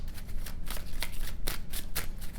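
Tarot cards shuffled and one pulled from the deck, close and fairly loud, with a rapid run of papery riffles and flicks over a steady low background.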